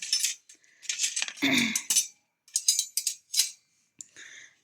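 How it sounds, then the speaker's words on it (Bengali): Two sturdy, heavy metal spoons are handled, giving a string of close, bright clinks and scrapes in irregular bursts with short pauses in between. "এই যে আমার পছন্দের দুইটা চামচ আশি টাকা করে নিয়েছে এগুলো চামচ খুব মজবুত খুব হেভি"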